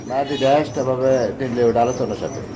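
Pigeons at a small pigeon farm, cooing in repeated rolling, throaty calls close by, with rhythmic pulses and a voice speaking over them.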